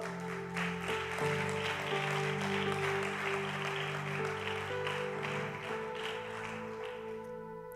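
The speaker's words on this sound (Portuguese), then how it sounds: "Aplauda o Senhor." A church congregation applauding at a leaders' gathering, a dense, sustained wash of clapping heard throughout over sustained musical tones.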